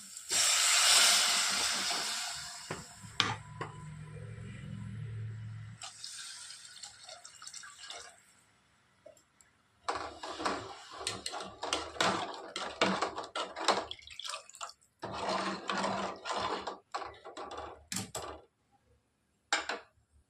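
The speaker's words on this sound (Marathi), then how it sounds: "हे बघा आपली आमटी उकळते" Amti, a spicy Marathi lentil curry, bubbles in a pot, a quiet hissing simmer with soft drips and intermittent bursts of bubbling, some steady and some choppy, with brief gaps of near silence between them.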